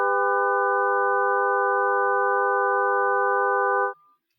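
A steady synthesized chord of pure tones built from several stacked partials, sounding a major third, holds loud and unchanging for about four seconds before stopping abruptly, with no voices.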